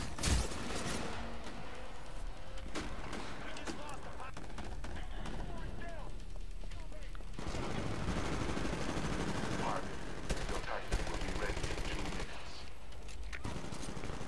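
Steady automatic gunfire from a Titanfall match, a busy run of shots and bursts crackling through, with a player talking over it throughout.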